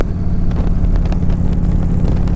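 A 20-year-old Harley-Davidson motorcycle engine runs steadily up close, a continuous loud low rumble with no pauses.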